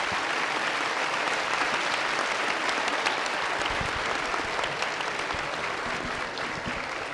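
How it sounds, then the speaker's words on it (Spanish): Audience at a panel discussion applauding the panelists, a steady, moderately loud wash of clapping that keeps going for the whole seven seconds. "un aplauso por favor a los panelistas."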